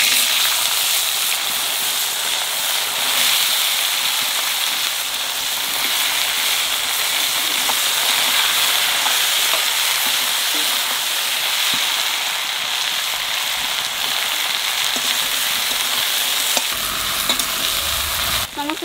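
Black cumin and green chillies fry in hot oil, a loud, steady, dense sizzle with crackling spits that runs unbroken for nearly twenty seconds, close up and with no voices.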